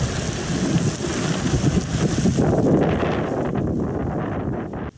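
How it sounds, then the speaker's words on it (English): Hail and strong wind in a severe storm in western New York roar as a dense, loud, continuous battering with heavy wind buffeting on the microphone, easing slightly toward the end, with no voices. "that's the sound of hail and wind here."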